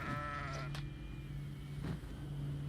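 A goat in the video game Kenshi 2 gives a short bleat near the start, heard over a steady low engine-like drone with a faint later thump.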